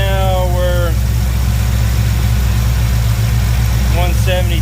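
A 1979 Chevrolet C10 pickup engine idles steadily while warming up after a new aluminum radiator fit, a close, even low rumble with brief chirping squeaks at the start and end.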